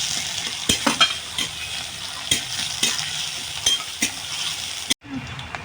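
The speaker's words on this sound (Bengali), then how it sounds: "পেঁয়াজটা দেখো ভাজা হয়ে গেছে" Chopped onion frying in a pan while a spoon stirs it, with a steady close sizzle broken by repeated scraping strokes, ending in a sudden quiet.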